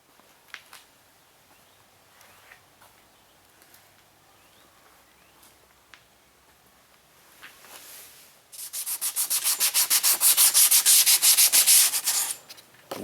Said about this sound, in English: I'm just finishing up on the sanding.